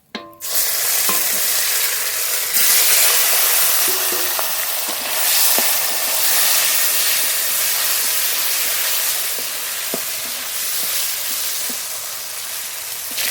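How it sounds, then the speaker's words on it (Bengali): Pakal fish fry in hot oil with a loud, steady, close sizzle and hiss that runs the whole time, broken by faint small pops and scrapes. "একই তেলে বাকি মাছগুলো ভেজে নেব।"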